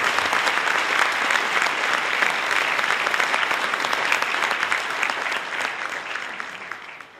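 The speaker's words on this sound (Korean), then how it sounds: "여러분 감사님을 위해서 뜨거운 박수 부탁드리겠습니다." Warm applause from an audience at a company innovation concert, steady dense clapping lasting several seconds at full strength before tapering slightly at the end.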